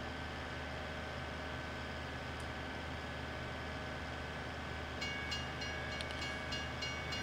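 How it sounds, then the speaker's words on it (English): A train rumbles past in a snowy farming video game, a steady low mechanical roar with faint rhythmic clacking and a few high metallic squeals toward the end; no talking. "Here comes a train."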